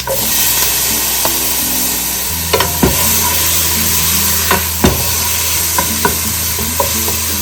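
Chopped tomatoes frying in a pan while being stirred for Kuwait-style rice: a steady, close hiss of sizzling with occasional sharp clacks and knocks of the utensil against the pan.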